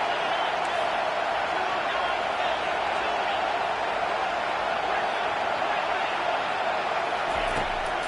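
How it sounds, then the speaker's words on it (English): A stadium crowd in a college football video game roars in a dense, sustained wash of cheering that holds steady throughout, with no distinct claps or breaks. "Decibels rising as the crowd gets behind this defense on 3rd down."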